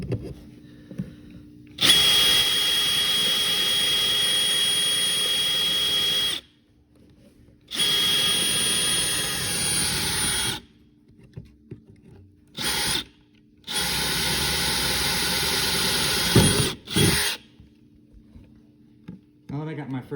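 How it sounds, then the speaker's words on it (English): A power drill bores through a plastic AnyBox storage box in several loud, steady bursts separated by short pauses, with faint handling sounds in the gaps. "I'm going to take my drill and drill right through the box"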